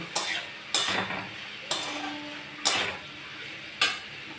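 Chilies and turmeric powder stirred in a frying pan, five sharp scraping strokes spaced about a second apart over a faint sizzle, close and fairly quiet.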